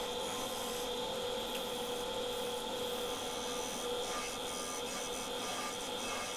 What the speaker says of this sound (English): And a bit of shear scraping on the front